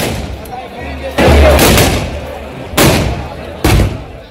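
Loud explosive bangs go off at a village festival celebration, three or four sharp blasts spaced a second or so apart, each with a booming tail, against a noisy outdoor crowd.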